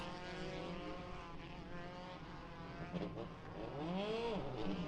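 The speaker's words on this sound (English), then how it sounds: "There goes Papasavas now. Same goes for the 67 of Cox. He's pulling away." A race car engine at the 2024 NOLA race pulling away from pit lane after a refire, a droning tone that rises in pitch as it accelerates, heard at a distance under a steady noisy background.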